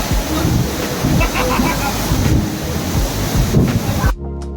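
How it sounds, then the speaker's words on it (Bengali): The Yamuna river near Mussoorie in Uttarakhand rushes past close by, a loud churning wash with wind buffeting, cutting off abruptly just before the end. "তো আমরা এখন যমুনা নদীর ধারে দাঁড়িয়ে আছি"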